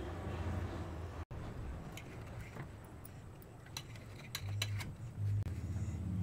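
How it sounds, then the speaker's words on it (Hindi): A knife cuts through bread slices on a board. Faint scraping strokes are broken by a few sharp taps and clicks of the blade, quiet and close, with no talking. "ऐसे हम सारे ब्रेड को काट लेते हैं।"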